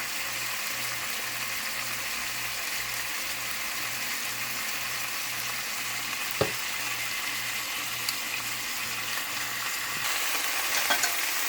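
Chicken tenders frying in a pan after a pinch of seasoning, a steady close sizzle holding an even level throughout, with a faint pulsing hum beneath and a sharp clack partway through.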